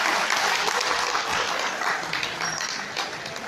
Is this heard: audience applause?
yes